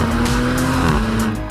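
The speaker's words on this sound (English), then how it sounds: "you get a little pop on the upshift." An Audi RS4 Competition sports exhaust under hard acceleration in second gear, a loud droning engine note with brief crackling pops around the upshift, heard close from inside the car.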